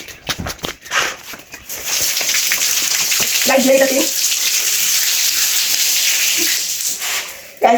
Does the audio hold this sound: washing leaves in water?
yes